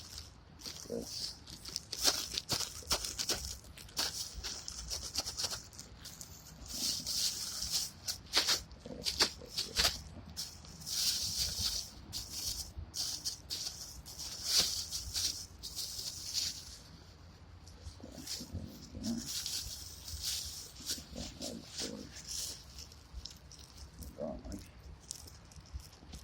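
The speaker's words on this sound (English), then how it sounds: "A little bit of rain." Light rain falls on a bog, with scattered drops pattering and ticking softly and irregularly throughout, faint and close, over a quiet background.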